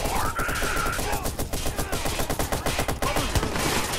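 Video game gunfire in Watch Dogs crackles in a dense, loud burst of rapid shots, like sustained automatic fire, with heavy rhythmic bangs packed closely together.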